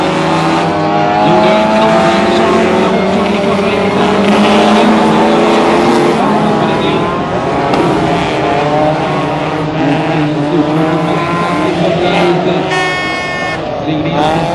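Race cars, including a Nissan 200, compete at a Motala motor festival, their engines droning continuously while a commentator talks over them throughout.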